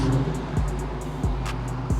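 A 2022 Dodge Charger Scat Pack Widebody idles on its stock exhaust at a shop, giving a steady low rumble with a subtle pulsing rhythm and slight periodic surges.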